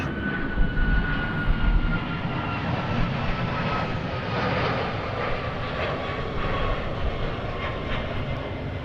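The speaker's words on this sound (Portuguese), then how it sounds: "como o avião, é só um, mas faz muito barulho" A single airplane drones steadily overhead, a loud continuous engine roar with a faint whining tone, holding level throughout with no talking.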